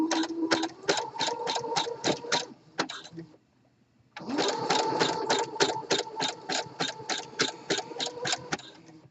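A sewing machine runs in two bursts of rapid, even stitching with a brief pause between them, working a three-step zigzag to attach elastic to the leg hole of swimwear, close and fairly clear.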